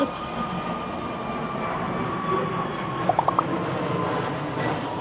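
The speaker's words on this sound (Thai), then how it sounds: "ได้ยินเสียงเครื่องบินไหมทุกคน ดังมาก" Loud, steady roar of a low-flying airplane passing overhead on a street in Chiang Mai, a broad rumble filling the whole clip, with a few brief clicks near the end.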